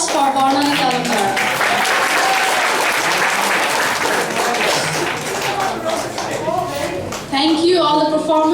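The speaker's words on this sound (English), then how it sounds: "A big round of applause for Barnani Kalkar." A crowd at a university Rag Day performance applauds loudly and continuously, with dense clapping and voices talking and cheering over it throughout.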